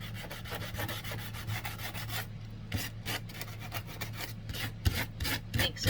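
A craft piece is rubbed to rough it up for a weathered look, making rapid, rhythmic scratchy back-and-forth strokes, close and fairly quiet, with a low hum underneath.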